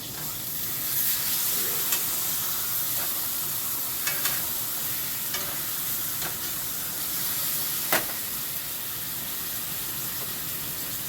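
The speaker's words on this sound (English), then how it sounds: "let's put these on our skillet. We're gonna get these kind of charred and heated up first" Food charring and heating up in a hot skillet, a steady, close sizzle and hiss that runs throughout, with occasional sharp pops and crackles breaking through.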